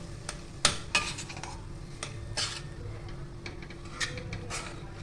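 A spoon stirs and clinks against a pot while warm milk is combined into a mixture for rava gulab jamun, in a few scattered taps and scrapes over a low steady background.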